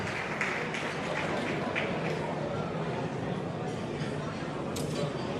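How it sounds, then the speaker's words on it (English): Applause at a gala dinner for a state member and opposition leader: sustained, evenly spread clapping from a big audience in a banquet hall, steady for several seconds with a few sharper claps standing out. "a big round of applause again, if you don't mind, for the State Member for Vaucluse and Leader of the Opposition"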